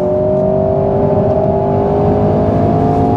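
A 2022 Alpine A110 S engine pulls hard under acceleration, a loud sustained rising drone with a steady whirring tone, heard from inside the car.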